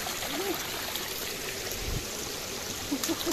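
Cold water from a natural spring flowing and trickling steadily close by, a continuous bubbling rush with a few brief gurgles and faint voices in the background.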